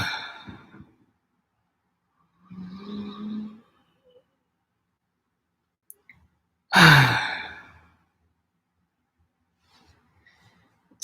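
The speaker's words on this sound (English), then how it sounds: "I'm going to do a few deep breaths." Several slow, deep breaths during a relaxation meditation, each a drawn-out airy inhale or exhale separated by silence, one sharper and louder sigh in the middle, close and alone with no talk.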